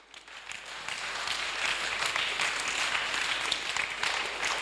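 A church congregation at a Sunday service bursts into sustained applause acclaiming Jesus, starting quietly and swelling into a steady, full clapping that holds to the end.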